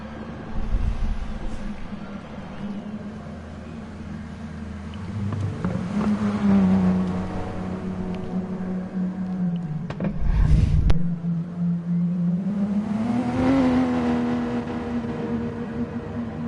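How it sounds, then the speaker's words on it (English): A Porsche 911 race car engine in the eDTM sim racing game at Spa in wet conditions, a steady droning tone that rises and falls as it passes, moderately loud with no talk. "as we watch Peter from Poland in the Porsche 911 cross that start finish line"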